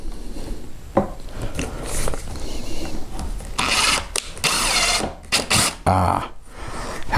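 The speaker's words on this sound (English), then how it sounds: "Let's pre-drill, because this being oak," A power drill pre-drilling into oak for a custom kitchen shelf, heard as several close, loud bursts of whirring and grinding with short pauses between them and no talk.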